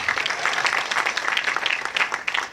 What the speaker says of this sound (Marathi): आधी स्वतःसाठी टाळ्या वाजवा